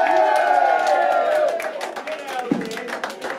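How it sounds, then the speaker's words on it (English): Live gig crowd at a Wigan venue cheering for a band, a swell of shouts and whoops with scattered clapping, fairly loud and close, easing off toward the end with voices mixed in. "give them a cheer"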